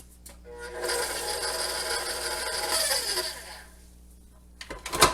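A spoon scraping along the bottom of a mixing bowl to work honey into a breakfast batter: a close, rasping scrape lasting a few seconds, then a pause and a couple of sharp knocks.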